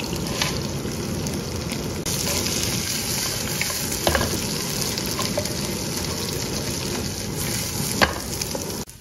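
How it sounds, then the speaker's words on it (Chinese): Ginger chunks stir-fried in hot oil in a wok while preparing spices for Guilin rice noodle broth: a steady, close sizzle with occasional scraping stirs and spatula knocks, no voices. "先把姜块炒出香味儿，再加入所有的香料一起翻炒"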